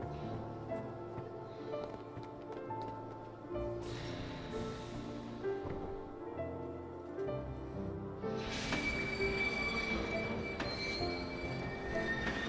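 A train moves along in Kingdom Hearts 2, faint rail clatter and squealing wheels mixed with other game sounds and tones.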